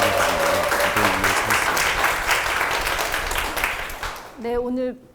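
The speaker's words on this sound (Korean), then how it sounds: "이렇게 박수와 함성 소리가 크신 것 같아요" A lecture audience applauds and cheers loudly and steadily at a live talk on getting rich, the dense clapping and crowd noise filling most of the clip before fading near the end, where a voice begins to speak.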